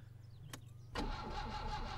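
An old rusty car in the driving game My Summer Car cranks over and catches, a brief click and starter whir settling into a steady, loud engine hum and rattle.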